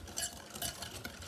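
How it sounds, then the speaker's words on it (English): A whisk stirs milk gradually into coconut cream pie filling in a bowl, giving a steady, soft swishing and clinking with a few louder strokes, close and continuous, with no talk. "get it stirred with the whisk"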